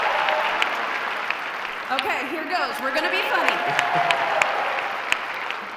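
Audience applause in a hall at the 2014 Apple Blossom Pageant, a steady wash of clapping running the whole stretch beneath a voice speaking on stage.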